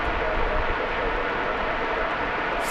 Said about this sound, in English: As that Delta flight departs to Detroit, it's an Airbus A320.